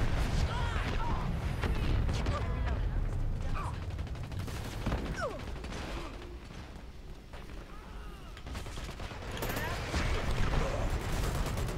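A fire support strike lands in the shooter game Dirty Bomb, a rattling series of blasts and mechanical clanks rolling on for several seconds amid gunfire, loud and close, dipping midway before swelling again.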